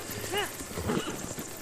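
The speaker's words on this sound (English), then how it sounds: "Well, this ain't a bad horse." A horse in a video game gives a short whinny amid soft hoof clops, over a brief moment with a voice talking.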